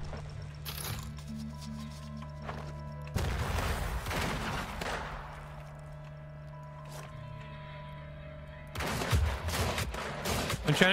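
Guns fire at a barrel in the video game Weird West, with sharp bursts of shots near the start, middle and end over a steady low game ambience.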